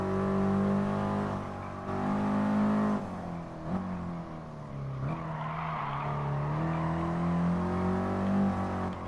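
Engine of an Alpine race car in Gran Turismo Sport, a loud steady in-game drone with rising and falling revs, gear shifts and a brief tyre squeal, continuous throughout.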